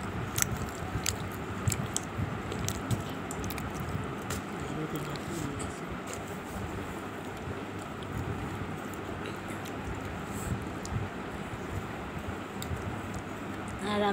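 Three people share suji from one plate with dal in a bowl, producing steady close chewing, squishing and biting sounds throughout, with a low background hum and faint voices.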